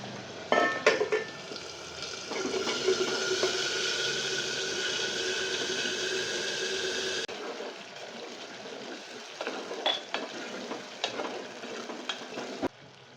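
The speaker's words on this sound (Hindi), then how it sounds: "आलू को मैंने हल्का सा तेल में तल लिया, उसमें मसाला डाल दूँगी अदरक लहसुन का" Lightly fried potatoes sizzle in oil while ginger-garlic masala is stirred through, with a steady frying hiss, spoon scrapes and pan clinks close by, then the hiss drops away to quieter stirring and clatter.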